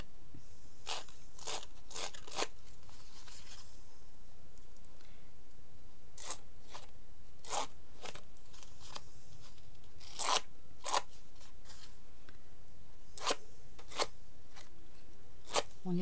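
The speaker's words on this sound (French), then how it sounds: "est-ce que je fais un peu de distress autour pour que ça fasse un peu plus joli?" Small hand-cut paper art trading cards having their edges distressed, heard as sharp, scattered scraping and crunching strokes in short bursts against a quiet background, with no talking.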